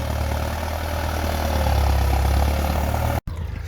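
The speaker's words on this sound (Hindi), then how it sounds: "ये हमारे गांव के हैं ट्रैक्टर वाले" A tractor in an Indian village at harvest time runs with a steady, heavy low-pitched diesel drone, loud and close, holding constant before a brief cut near the end.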